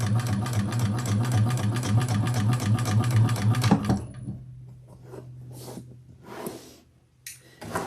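A sewing machine stitches a single row on a leather tote in a fast, steady, loud mechanical rattle for about four seconds, then stops, leaving a low hum and a few faint handling sounds.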